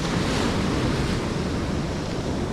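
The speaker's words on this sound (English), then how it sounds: "Let's watch this wave." Ocean surf breaking and washing over coastal rocks, a steady, loud roar of churning, foaming water with wind noise on the microphone throughout, no voices.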